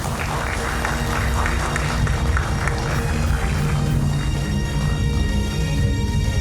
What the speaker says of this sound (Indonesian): Tepuk tangan untuk Pak Gilbert Lumoindong.